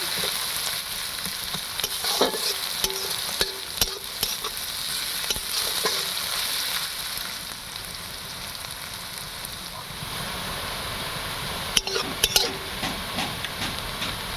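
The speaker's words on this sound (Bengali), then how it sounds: "এখানে পেঁয়াজটা ভালোই ভাজা হয়ে গেছে" A pan sizzles continuously with onions frying, punctuated by repeated scraping and clanking of a utensil stirring against the metal.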